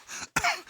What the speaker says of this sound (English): I've got a chesty cough